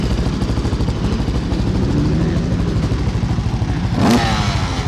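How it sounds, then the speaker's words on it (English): An older trail bike riding on a motocross track, its engine buzzing steadily at moderate distance with a brief sharper rev near the end, no voices. "So we've got someone here, look, on a bit of a older trail bike."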